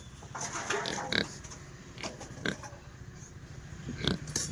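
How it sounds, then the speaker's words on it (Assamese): Pigs on a pig farm grunt and snuffle in a continuous low, restless stream, with several sharper squeals or grunts standing out at close range amid the general farmyard noise. "ইফালে গাহৰি"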